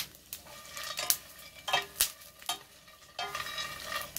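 Dried anchovies are being stir-fried with almonds and other nuts in a pan. Quiet, irregular scrapes and clicks of a utensil against the pan mix with soft rattling of the nuts over a faint sizzle, close by with no voices.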